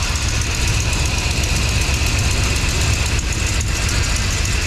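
A 1982 Ford F-150 pickup's 302 V8 engine idling steadily with a deep, even rumble and a slight lope, close and continuous with no talking.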